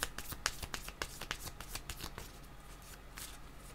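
Tarot cards being shuffled by hand: quick riffling flutters and soft slaps in a fast burst that gradually settles, close and quiet.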